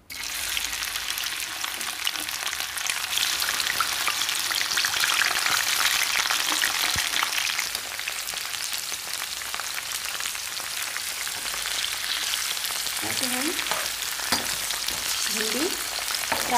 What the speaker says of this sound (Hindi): अब मैं इसको फ्राई करूँगी